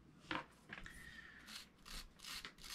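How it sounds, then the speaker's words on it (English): A small plastic brush scrubs the screws of an antique circa-1932 South Bend No. 550 level-wind baitcast reel, giving faint, close, dry rasping strokes in short uneven bursts. "So I'll use my plastic brush, clean anything out of these screws"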